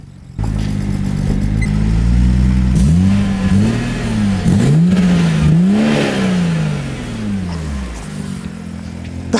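BMW E46 fitted with a B58 engine, loud and close as it revs and accelerates, the tone rising and falling through several quick surges and gear changes before easing back to a steady idle.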